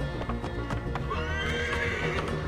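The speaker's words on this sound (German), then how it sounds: "Jetzt werde ich dahin reiten." A horse in the video game Assassin's Creed Origins clip-clops along at a steady gait and lets out a neigh, loud and close over a low game background.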